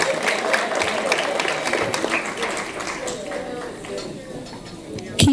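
Applause from an audience at a law faculty awards ceremony, steady crowded clapping that gradually softens over several seconds, with voices mixed in.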